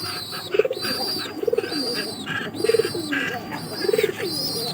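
Domestic pigeons coo close by in a loft, about four throaty, rolling coos spaced at a steady rhythm over a soft background hiss, with no voices.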